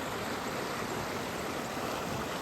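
River water flowing at low level, a steady broadband rushing and splashing heard close up, continuous and even throughout with no voices.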